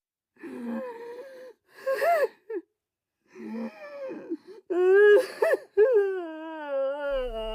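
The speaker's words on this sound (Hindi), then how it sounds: "रोने की आवाज आती है।" A ghostly crying effect in a horror story: a series of wavering, drawn-out sobs and wails in bursts, ending in a long trembling moan, heard clearly and alone without talk.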